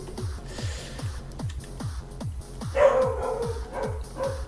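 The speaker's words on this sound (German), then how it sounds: "Einfach auf den Hund jetzt mal nicht hören." A dog in a San Andreas multiplayer roleplay game barks repeatedly in a steady rhythm of short woofs, with a brief whine partway through and faint game ambience beneath.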